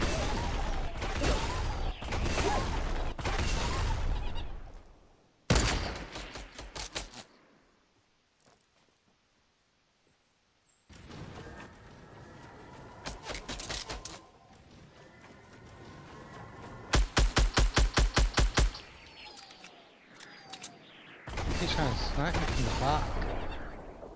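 Fortnite battle royale gunfire, bursts of rapid shots and blasts in loud clusters separated by quieter stretches, with game effects and a voice talking over parts of it.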